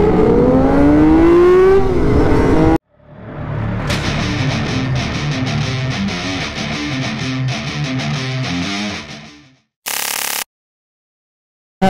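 Aprilia RSV4 motorcycle engine revving hard, a loud raw sustained roar after a short gap, cutting out abruptly with a brief final burst.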